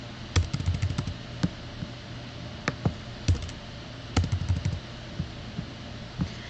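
Computer keyboard typing in irregular bursts of sharp clicks and key taps, close and fairly quiet, with short pauses between runs and no talking.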